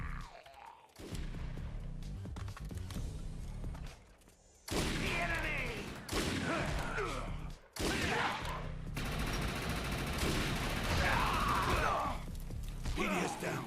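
Rapid SMG gunfire from the sci-fi shooter Defiance, loud bursts of automatic fire with brief pauses between them and game effects mixed in, with a voice speaking over parts of it.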